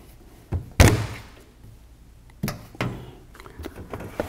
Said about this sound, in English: All right, let's take the door off.